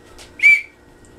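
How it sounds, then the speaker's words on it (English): One short, sharp blast of a coach's whistle blown indoors at home during pretend soccer practice, loud and close, with quiet around it. "I got the whistle."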